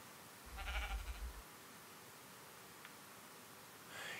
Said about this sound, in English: Now I don't need a sheep. There's a sheep.